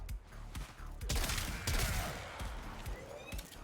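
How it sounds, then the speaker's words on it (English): Rapid, dense explosions and gunfire from the Warframe video game, a loud continuous barrage of booming blasts in quick succession. "get a few more explosions going"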